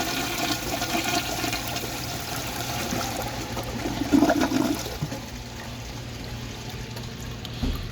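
A 1950 Crane Drexel toilet tank flushes with a sustained rushing gush of water that swells midway, then eases into a softer refilling trickle, close and clear with no talk.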